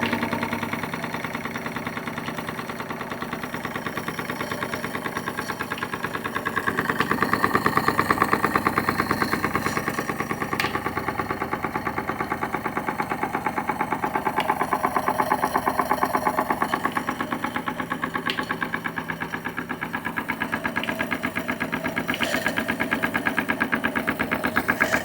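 A small PM Research No. 3 steam engine with a Roundhouse boiler chugs steadily throughout, a continuous rapid mechanical knocking with a faint hiss, moderately loud and unchanging for the whole stretch.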